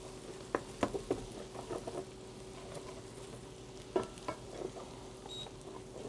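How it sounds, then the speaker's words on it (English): Shallots and garlic sauté in a pan for chicken marsala, giving a faint, steady sizzle broken by a few sharp clinks and scrapes of a utensil against the pan, close and quiet with no talking. "So now I'm gonna kind of saute my shallots, my garlic."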